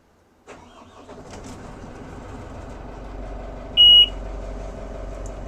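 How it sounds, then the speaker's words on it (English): A boat engine cranks and settles into a steady idle, then the ignition key panel gives one short, sharp, loud electronic beep while the engine keeps running. "You'll hear it beep."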